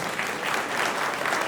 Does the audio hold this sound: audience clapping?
yes